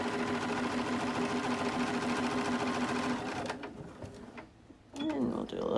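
A sewing machine stitches the edge of a cotton placemat, its motor humming in a steady rapid run that stops after about three seconds, followed by quieter handling sounds and a short burst of stitching near the end.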